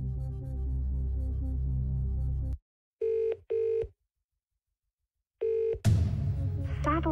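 Dialing for the Phone a Friend lifeline in a Who Wants to Be a Millionaire video game: a sustained tone stops, then three separate short electronic ringing beeps with silent gaps between them, followed by a voice answering.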